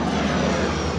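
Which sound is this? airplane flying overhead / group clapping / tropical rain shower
airplane flying overhead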